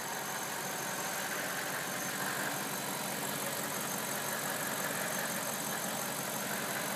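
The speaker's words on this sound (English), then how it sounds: "Here's the engine. It's quiet." A 2004 BMW 745Li engine with 214,000 miles idling steadily at low volume, a smooth continuous hum with no speech.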